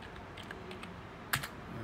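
Quiet, rapid keystrokes on a computer keyboard as a password is entered on a hackintosh, a light scattered patter ending in a sharper pair of clacks, close and alone with no talking.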